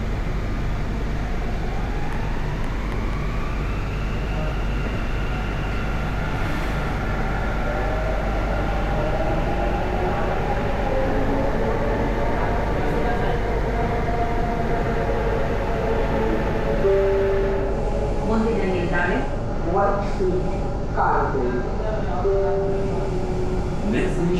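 Steady rumble and hum inside a moving metro train carriage, continuous throughout with rising whine and squeals toward the end; a voice talks over it.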